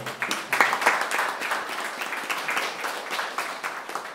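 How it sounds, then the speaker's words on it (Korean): A dense, continuous wash of applause fills a Korean cultural forum's open concert hall as guests are welcomed, sustained and fairly close. "우리 박수 한번 좀 주실까요?"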